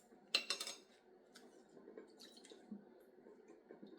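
Homemade hair cream being stirred after menthol is added, a spoon clinking and scraping against a bowl in a burst of quick taps near the start, then softer wet stirring scrapes continuing closely with no talk.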